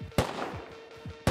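Two sharp, loud gunshots from the Rust video game land about a second apart. Fainter thumps and a steady hum sit in between.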